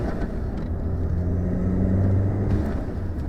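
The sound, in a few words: VW MK7 Jetta GLI exhaust with turbo muffler delete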